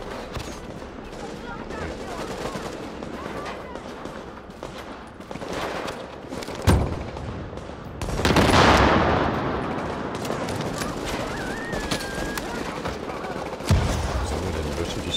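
Gunfire in the video game The Division, bursts of shots and booming impacts, one heavy blast in the middle, mixed under someone speaking German in a co-op session.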